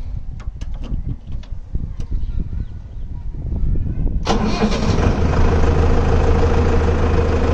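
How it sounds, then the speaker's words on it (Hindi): A Mahindra 755 Novo turbo tractor engine starts up and settles into a steady, fairly quiet idle, loud and continuous after some faint, irregular background noise at the start. "तो भाइयों 655 के मुकाबले काफ़ी कम आवाज़ है जी टर्बो होने के कारण ट्रैक्टर"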